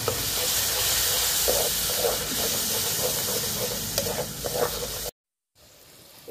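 Whisked yogurt goes into a sizzling crab masala and gets stirred, giving a loud, steady broadband fry-hiss with scraping stir strokes. The sizzle cuts off abruptly near the end, leaving a brief quiet gap.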